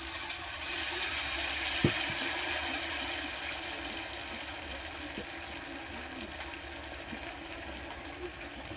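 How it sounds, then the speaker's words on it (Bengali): Tamarind water poured into a sour crab curry in the pot, a steady broad wash of liquid running evenly from start to finish with a couple of faint knocks. "এবার এই তেঁতুলের জলটা দিয়ে দেবো।"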